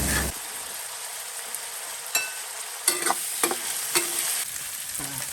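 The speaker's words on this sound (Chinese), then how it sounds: "我们先炸蚂蚱啊" Grasshoppers frying in oil over a low flame, a continuous crackling sizzle with sharper pops and scraping stir sounds around the middle and end, close and clear with no talk.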